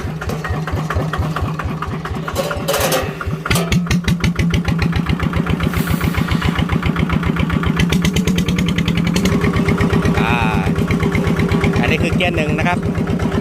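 A farm tractor running in four-wheel drive with a newly fitted wheel coupling, ready for ploughing, its engine chugging steadily and loudly in close, even pulses for the whole stretch while someone talks over it.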